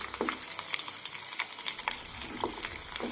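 Homemade hair oil with beeswax sizzles as it heats in a pan on the stove, a soft continuous frying hiss broken by small crackles and occasional scraping stirs, heard close and alone.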